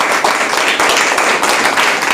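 A congregation claps loudly during a Telugu Christian Sunday service: a dense, sustained burst of many hands clapping close by, with no voices over it.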